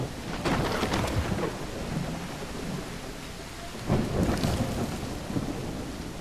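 Video game heavy rain pours steadily while deep thunder rumbles roll in twice, the second swell building strongly near the middle of the clip.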